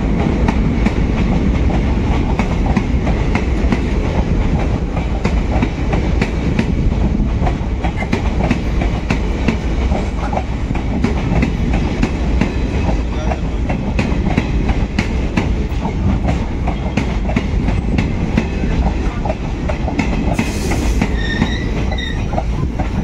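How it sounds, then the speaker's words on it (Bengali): A Malda Town–Azimganj passenger train hauled by a WAP5 electric locomotive rolls into a station, its wheels clattering steadily over rail joints with continuous loud rumble and a brief high wheel squeal near the end. "আজিমগঞ্জ প্যাসেঞ্জার ঢুকছে এই মুহূর্তে ধুলিয়ান গঙ্গা রেল স্টেশনে"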